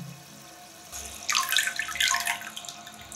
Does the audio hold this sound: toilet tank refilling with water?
yes